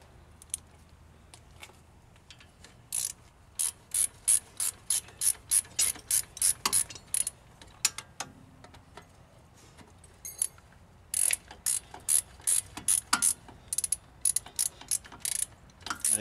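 A hand ratchet tightens 13 mm 12-point bolts on the axle U-joint of a Jeep Wrangler TJ, giving bursts of rapid, crisp clicking strokes with short pauses between them, close and fairly loud with no talking.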